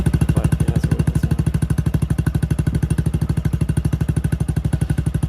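A small-bore motorcycle engine with a new, shorter muffler idles close by in a fast, even, loud putter, steady throughout with no talk.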